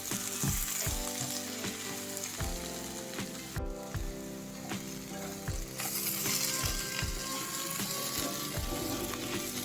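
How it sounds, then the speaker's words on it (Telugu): Coconut and peanut powder stirred through a fry of snake gourd in a pan, steady sizzle with repeated scraping spoon strokes in an irregular rhythm, close, no talk. "కొబ్బరి పొడి వేసుకుందాం ఇది కూడా వేసుకుని పైకి కిందకి ఒకసారి కలుపుకుందాం"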